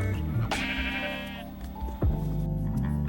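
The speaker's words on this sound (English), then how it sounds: "Sheep, you are coming with me." Sheep in the video game Minecraft bleat twice, loud nasal cries close by, one early and one about a second and a half later, over a steady game background.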